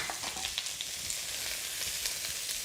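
Garlic and onions sizzle steadily in hot oil in a wok, a dense, even crackle with small pops, close and moderately loud, with no talking.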